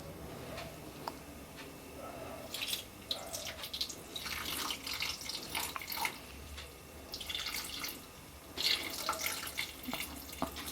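Water splashes and trickles into a pan on a stove in uneven bursts while making kozhukkattai, a fairly close pouring sound with faint kitchen noise and no talking.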